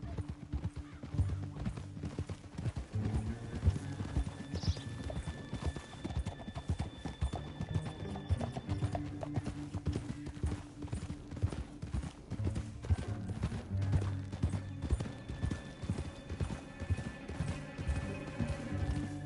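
In the video game Red Dead Redemption 2, continuous galloping hoofbeats form a dense fast clatter throughout, with an occasional whinny over a steady musical drone.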